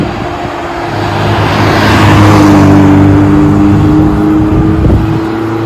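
A 1976 Alfa Romeo GT1600 Junior (105 series) is driven hard through corners with double-declutching. The engine note is loud and close, a steady drone that swells to a rising rev, then eases off.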